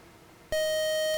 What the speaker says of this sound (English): that long buzzer means the game is over